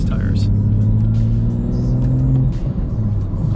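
BMW F87 M2 on Michelin Pilot Sport tires driving on a wet road, a steady close engine drone and rumble with road and tire noise, continuous throughout with someone talking over it.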